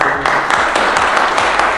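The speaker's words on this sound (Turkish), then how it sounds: "Ali dayıya bir alkış." A small group claps for Ali dayı inside a car wrapping garage, a brief burst of close, uneven hand claps under some voices.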